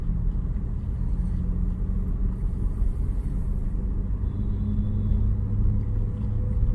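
A car driving slowly through city traffic in second gear, with a steady low engine and road rumble throughout and a faint tone briefly above it, heard from inside the cabin.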